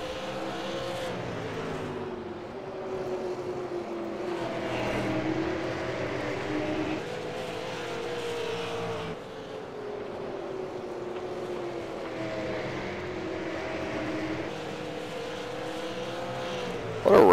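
Stock cars racing at South Boston Speedway, a steady loud roar of several engines droning and shifting pitch as they circle the track, continuous with no talk.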